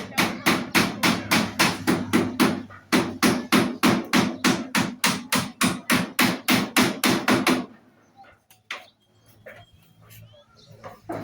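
Nails driven by hammer in a steady run of sharp, loud, evenly spaced strikes, close by, ending with a few scattered knocks and quieter handling noise.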